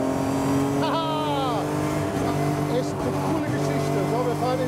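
Race car engine noise droning loud and steady inside the car during an overtake at the Nürburgring 24-hour race, with the pitch shifting as the car accelerates and someone talking over it.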